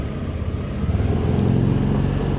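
A motorcycle engine revving steadily during a charging-system test on a bike with a suspected faulty regulator and a weak battery, loud and close with a continuous throaty drone and no talking.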